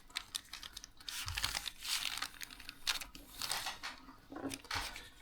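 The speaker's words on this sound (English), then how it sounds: "you fold these things up like so. Basically, you're just folding a kite base." Paper folded by hand into a kite base, heard as soft, close crinkling and creasing rustles in several bursts, with no speech.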